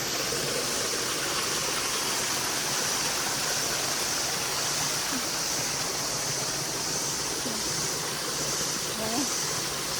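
Water from a mountain spring near a remote hill village flows in a steady, close, unbroken rush that fills the whole stretch at an even loudness.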